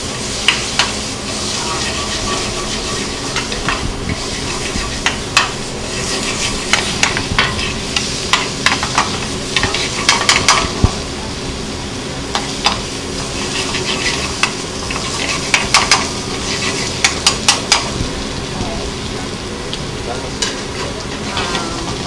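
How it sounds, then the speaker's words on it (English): Garlic shrimp sautéing in a pan, with a steady loud sizzle and hiss broken by repeated stirring scrapes and crackles, heard close with no talking. "Garlic sauteed shrimp."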